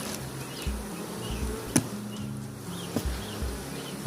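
Honeybees buzz on a beehive frame while a hive is being split and colonies formed, a steady low drone with a couple of sharp knocks from handling the frame.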